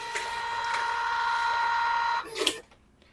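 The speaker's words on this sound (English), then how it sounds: "The app will print a shift report on the receipt printer." A point-of-sale receipt printer at a quick-service restaurant runs a shift report, giving a steady close mechanical whir for about two seconds that stops with a brief clack as the paper finishes.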